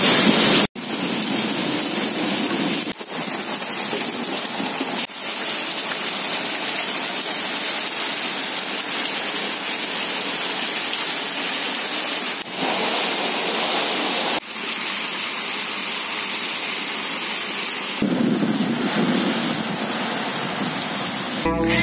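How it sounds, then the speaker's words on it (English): Sudden heavy afternoon rain pours down in a loud, continuous hiss close by, steady for the whole stretch with a few abrupt cuts and no voices. "Look, suddenly it started raining in the afternoon."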